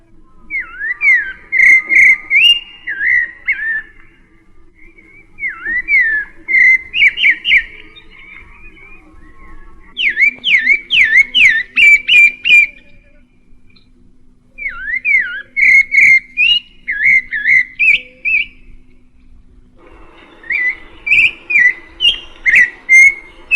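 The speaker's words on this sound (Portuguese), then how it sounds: "E o sabiá do Xingu desfia sua cavatina." A Xingu thrush (sabiá) sings loud, rich whistled phrases in repeated bursts separated by brief pauses, close and clear against a quiet backdrop.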